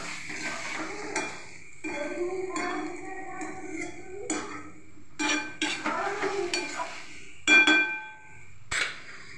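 Duck eggs and fried potatoes are stirred in a pan with a metal spoon, giving scattered clinks and scrapes against the pan, including one sharper knock near the end, while a voice speaks in between.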